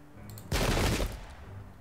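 A single loud burst of massed musket or cannon fire in the Pike and Shot battle game, set during the English Civil War at Adwalton Moor, erupts abruptly and rumbles for about half a second before fading into background ambience.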